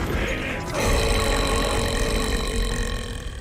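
An ogre gives a long, deep, rumbling burp in a Total War Warhammer 3 trailer, loud and guttural, rolling on for several seconds over a low, droning background.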